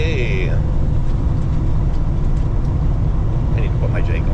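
A loaded truck cruises along a highway at about 95 km/h, heard from inside as a close, steady drone of engine and road rumble with no break.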